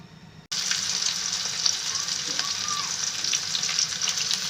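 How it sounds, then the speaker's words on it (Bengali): Onion and garlic fry lightly in hot oil in a wok: after a brief quiet start, a steady, close, bright sizzle fills the rest of the clip with faint stirring scrapes and no talking. "আমি পেঁয়াজ রসুনগুলোকে হালকা ভেজে নেব।"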